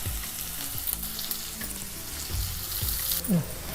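Curry leaves and finely chopped onion frying in oil, a close, steady sizzle with sharp pops and spits from the leaves, plus a few low stirring knocks.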